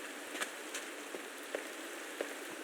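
Steady rain patters in a video game, a dense even hiss broken by a few sharper individual drops, with no voices.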